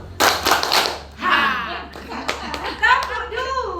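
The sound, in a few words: class clapping once on command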